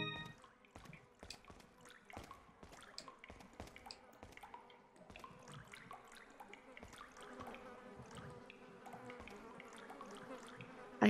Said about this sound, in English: I hear buzzing.